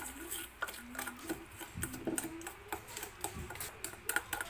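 A spoon stirs vanilla essence into chocolate chip cookie batter in a bowl, giving quiet, rhythmic clicking and scraping taps against the sides, close and soft throughout.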